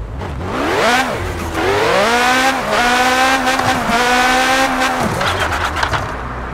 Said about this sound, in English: why does this car sound fast but it's not moving fast?